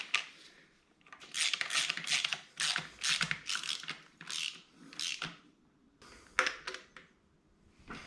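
A socket wrench with cardboard stuffed in the socket ratchets on a nut of a Chevy 350 engine, giving rapid close clicking bursts in repeated strokes with short pauses between.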